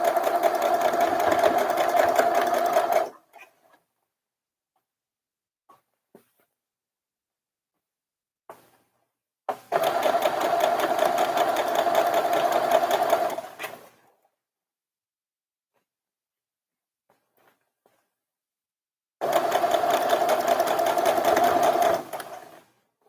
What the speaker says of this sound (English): My machine has not been wanting to sew over the pins very well